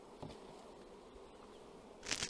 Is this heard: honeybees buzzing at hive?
yes